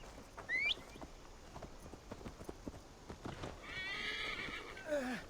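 Horse whinnying and hooves clip-clopping in the Assassin's Creed Valhalla video game, with a high neigh near the start, steady hoof beats throughout and a second whinny near the end, all fairly close and clear.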